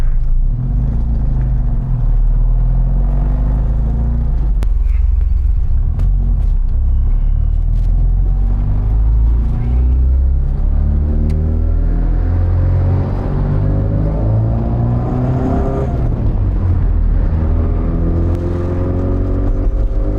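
A 1987 Austin Mini 1000 driving, its small engine droning and rumbling loudly with rising revs, whirring drivetrain and occasional clatter, with no voices.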